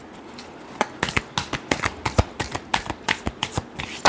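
Tarot cards being shuffled up close, a rapid run of crisp riffling flicks and slaps repeating steadily for a few seconds with no talk.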